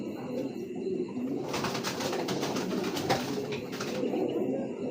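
A pair of dragon racing pigeons on a farm coo softly, low murmuring calls running under a steady background rustle and bursts of broadband noise, close but faint, with no clear speech.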